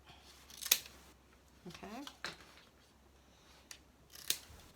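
A few sharp scissor snips trimming the tail of basket weaving material, two crisp cuts standing out against a quiet room, with faint handling rustle between them.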